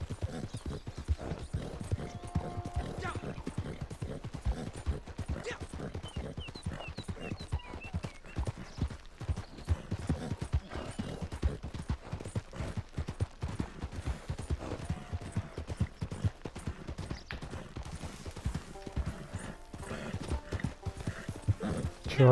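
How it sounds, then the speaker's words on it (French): Galloping horse hooves from the Red Dead Online video game pound in a fast, continuous, loud rhythm, joined by a brief whinny and faint bursts resembling distant gunfire. "Pas il galope hein le cheval."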